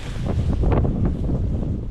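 Strong wind buffets the microphone in an open South Dakota field during a late-season pheasant hunt, a steady loud low rumble with gusty swells and no talking.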